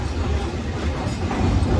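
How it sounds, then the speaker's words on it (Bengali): Train pulling out of Ibrahimabad railway station, a steady rumble of rolling wheels and carriages heard from on board, close and continuous. "তো ছেড়ে যাচ্ছে ইব্রাহিমাবাদ রেলওয়ে স্টেশন।"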